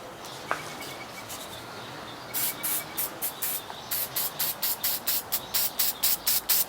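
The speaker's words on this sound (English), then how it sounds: "We're going to hit it with that Marsh spray again." A spray can of Marsh spray fires a long hiss, then a rapid series of short, evenly spaced bursts, close and loud, while making a wood sign.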